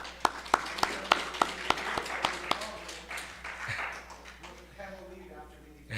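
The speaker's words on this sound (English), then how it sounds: "let's give them applause" Audience applause at a talk: a run of evenly spaced sharp claps opens, then a broad wash of clapping that slowly fades, with voices mixed in.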